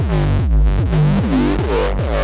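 Hardstyle kick drum, EQ'd and then distorted, pounds out several heavy hits in quick succession, each a booming low thump with a gritty, pitched-down distorted tail, alone and with no talk.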